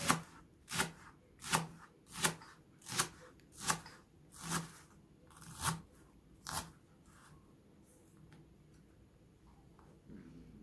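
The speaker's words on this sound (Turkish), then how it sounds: "Ben de onu halka halka doğruyorum" A knife slicing a leek into thin rings on a cutting board, about nine crisp evenly spaced chops in a steady rhythm, close and fairly quiet, then a quiet pause at the end.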